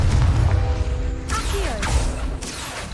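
A Confringo spell cast in Hogwarts Legacy, heard as a low rumbling build, then a sharp crackling blast with a whistling streak and a second burst shortly after.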